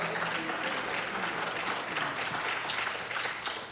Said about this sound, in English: y'all can clap if you want to.